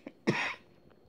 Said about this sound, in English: Sorry for the coughing at times.